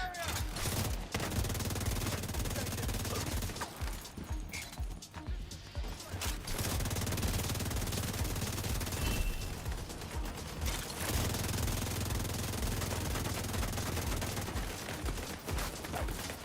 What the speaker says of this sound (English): It's a nice little SMG though